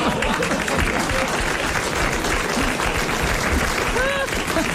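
A studio audience at a 1989 French TV show applauds, dense sustained clapping filling the whole stretch while a voice carries over it.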